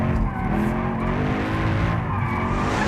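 Loud, continuous tire scrubbing and roaring road noise from a Mercedes-AMG car braking hard, dense and sustained for a few seconds without talking.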